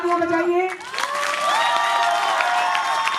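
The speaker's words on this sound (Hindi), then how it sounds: "गीत खत्म हुआ, तालियां बजाइए" Applause and cheering from an audience at a Hindi kavi sammelan poetry gathering, rising right after a sung verse ends and holding as a steady, dense wash of clapping with some vocal cheering.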